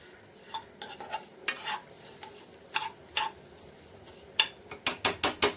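Vermicelli fries in butter while a utensil stirs it, sharp scraping and clinking strokes against the pan over a faint sizzle, growing into a quick burst of clatter near the end.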